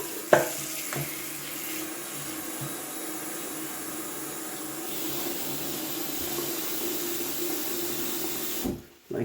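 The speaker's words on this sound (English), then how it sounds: "It's a baking bowl actually. So I'm gonna fill that with water" Running tap water pours into a baking bowl being filled to rinse a razor for wet shaving, a steady rushing hiss that holds for several seconds before cutting off abruptly near the end.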